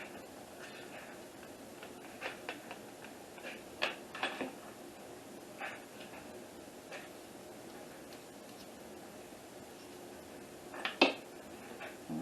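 A utensil stirs sour cream in a bowl for a broccoli and cheese pie, giving soft, sparse scrapes and occasional light clinks against the bowl. The sounds are quiet and close, with faint background noise.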